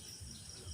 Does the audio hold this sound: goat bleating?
no